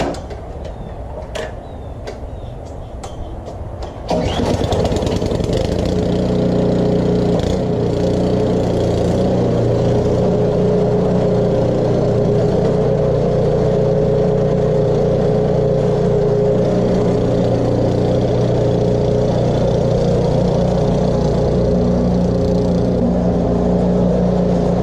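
A gasoline snow blower, fuel just topped off, is handled and clicked for a few seconds, then its small engine catches abruptly and settles into a loud, steady idle close by.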